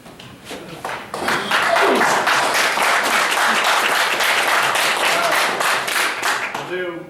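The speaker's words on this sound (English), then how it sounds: "please hold your applause until the end of the forum, okay?" Loud, dense audience applause at a 2014 Hamblen County sheriff candidate forum swells after a quiet opening second and holds steady for several seconds before fading at the end.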